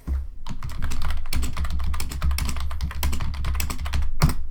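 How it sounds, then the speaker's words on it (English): Rapid clicking keystrokes on a computer keyboard rattle along in a close, continuous burst, with a few short pauses between runs of typing. "Nice noise of me typing."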